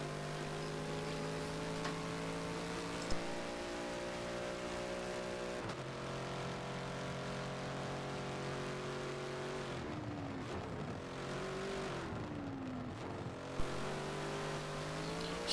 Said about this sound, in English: Just listen to the sound of that Bentley. The deep grumble.